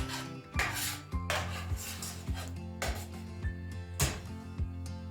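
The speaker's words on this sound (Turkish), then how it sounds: "üç parçayı döktükten sonra yani yağ, salça, ketçap ve domates koyduktan sonra e, kaynayıncaya kadar karıştırıyoruz" A spoon scrapes and knocks rhythmically against a pot while oil, tomato paste, ketchup and tomato are stirred together, with regular clinks roughly every half second, close and moderately loud.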